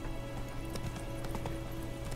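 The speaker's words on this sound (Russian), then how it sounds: "Видишь, конь мой куда пошел?" Horse hooves clip-clopping in The Witcher 3, a steady walking rhythm of dull thuds over a constant low background hum, with no talk.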